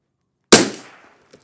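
A Savage Mark II FV rifle, freshly recrowned, fires a single sharp, loud crack outdoors at a 50-yard target, followed by a quick decaying echo and a faint later tap.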